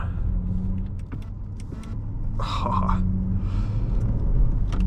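A 2001 Mercedes-Benz S55 AMG pulls away from a stop, its engine a low, steady rumble under scattered clicks and a brief whirring sweep midway, the level swelling slightly toward the end.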